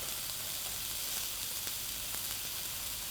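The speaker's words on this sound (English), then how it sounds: "we sizzling, baby" Cauliflower stir fry sizzles in a hot pan, a steady, fairly quiet hiss of frying with faint crackles and pops, close by and uninterrupted by talk.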